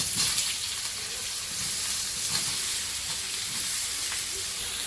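Dried red chillies fry in hot oil for a Sundarbans-style river fish meal, giving a steady, close, broadband sizzle and crackle that holds at an even level throughout with no talking.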